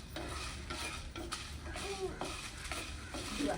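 Dried chillies, coriander seeds, black pepper and cumin dry-roast in a pan, giving a steady low scraping and rustling as a spoon keeps them moving, fairly faint and continuous throughout.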